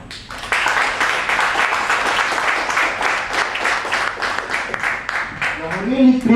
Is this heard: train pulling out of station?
no